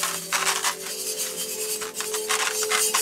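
Very fine grit poured into a pot for planting tulips and daffodils, a continuous close granular hiss and rustle with slight surges, heard alone without talk.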